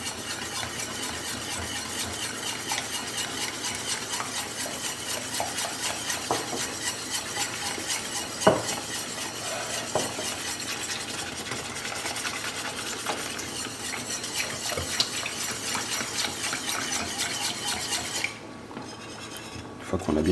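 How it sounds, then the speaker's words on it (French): Milk, cream and grated parmesan are stirred in a pan, a continuous soft scraping and clinking of utensil against metal over a faint sizzle, steady throughout without speech. "on mélange légèrement le lait et la crème, on va rajouter les 100 g de parmesan, on mélange"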